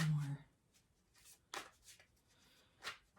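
Tarot cards shuffled in short riffling bursts, a few separate swishes spread across a few seconds, fairly soft and close, with a brief low voiced sound at the start.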